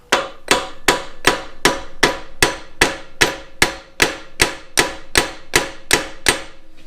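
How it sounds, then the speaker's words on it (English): Steel hammer rapidly striking pin ends against a vise used as an anvil, burring them over on a Massey Ferguson 35 PTO lever: about fourteen sharp, ringing metallic blows at a steady, even rhythm, close and loud, with no talking. "we will hammer that to burr the ends over, and that will then hold it all tight"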